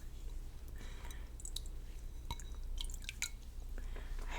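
Water drips and splashes softly as hands dip into a bowl and wet a face during a bedtime skincare routine, quiet irregular trickles and wet patters close up over a low steady hum.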